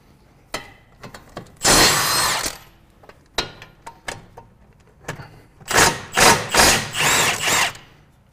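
Power tool, likely an impact gun, loosening caliper bracket bolts on a 2014 Chevy during brake repair, with two long bursts and several short rattling hits and clanks between, close and loud.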